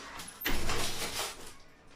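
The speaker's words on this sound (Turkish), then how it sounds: "Şöyle camı da kapattım." A single sliding thud and rush of a window being pulled shut nearby, fading over about a second.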